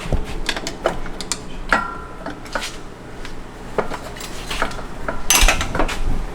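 An aluminum billet housing being pried and popped off during installation, a close run of sharp metallic clicks, taps and clatter with one louder snap toward the end.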